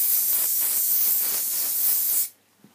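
Hairspray hisses from an aerosol can onto a donut bun hairstyle, one steady close spray of about two seconds that cuts off abruptly.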